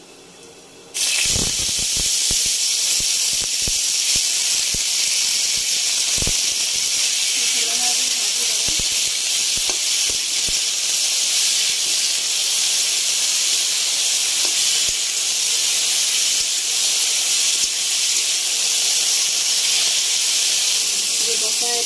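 Cut potatoes frying in hot oil with panch phoron, a loud steady hiss and sizzle that starts abruptly and runs unbroken, with occasional sharp pops and crackles scattered through it.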